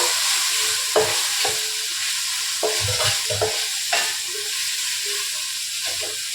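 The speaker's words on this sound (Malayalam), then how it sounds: "ഇനി ഇതൊന്ന് ജസ്റ്റ് ഒന്ന് വഴട്ടി കൊടുത്തതിന് ശേഷം ഇതിലേക്ക് നമ്മൾ വേവിച്ച് ഊക്കി വെച്ചിരിക്കുന്ന നമ്മുടെ പാസ്ത കുട്ടനെ ചേർക്കാൻ പോവാണ്" Boiled pasta with pepper powder being sautéed in a pan, giving a steady close sizzle and hiss broken by repeated scraping stirs of the spoon, with no voices.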